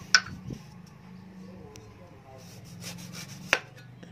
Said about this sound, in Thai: นี่เราก็ใช้มีดนะคะเฉือนเอาน้ำมะนาวค่ะ